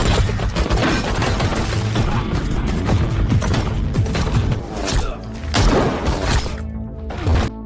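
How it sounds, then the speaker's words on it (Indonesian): Intense film gunfight between anti-narcotics police and a cartel at its hideout, dense rapid gunfire, thuds and crashes forming a loud continuous barrage with music underneath. "Hingga terjadilah baku tembak yang sangat sengit di markas tersebut."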